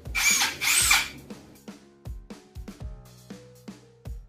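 A Maxell cordless impact drill whirs loudly in two close bursts, followed by a run of sharp clicks and knocks as it is handled and set down.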